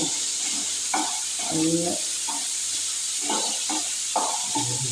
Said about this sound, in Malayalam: ഒന്ന് ഉള്ളി വഴന്ന് വരുന്നവരെ നമുക്ക് വാഴ്ത്തിക്കൊടുക്കാം